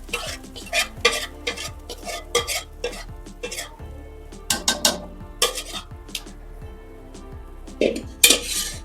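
A spoon stirs spice paste with lightly browned fenugreek seeds in a kadai for pakoda kadhi, making irregular close scrapes and metallic clinks against the pan over a faint low sizzle.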